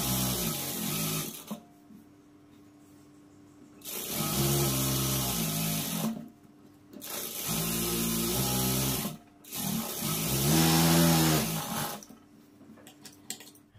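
Three bursts of a sewing machine stitching a blouse, each a few seconds of fast close whirring separated by short quiet pauses.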